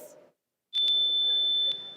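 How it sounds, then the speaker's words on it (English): A quiz contest buzzer at a junior science and maths championship semi-final sounds one steady electronic beep lasting about a second, loud and clean, after a brief silence. "let's hear the sound from the buzzer for naval base."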